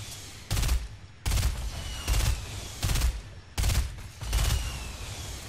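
Gunfire in Fortnite Battle Royale: several loud, sustained bursts of rapid shots, each lasting about a quarter to half a second, repeating in an uneven rhythm with short pauses between them, and no talking.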